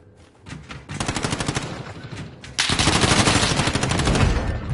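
Kilo assault rifle in Warzone fires in long, loud automatic bursts, a quiet start giving way to rapid rattling volleys, with a short pause before a second, heavier sustained stream of shots.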